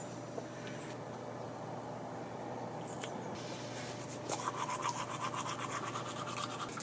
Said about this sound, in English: Brushing your teeth first thing in the morning